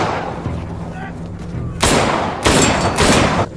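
Gunfire in a close-range shootout near an abandoned house, with loud sharp bursts of shots cracking out in quick clusters after a short rumbling lead-in.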